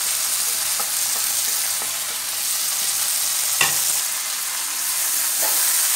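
Garam masala, turmeric and other spice powders fry and sizzle in a pan for kovakkai masala, with a spoon scraping and stirring in scattered light knocks over the steady hiss.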